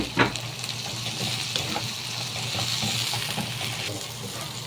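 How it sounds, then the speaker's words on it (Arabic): Onion, pepper and tomato sizzle steadily in a pan as they are sautéed for fuls medames, a continuous close frying hiss with a few light clicks of stirring and no talk. "بعد ما ايه شوحت البصلايه مع الفلفل مع الطماطم"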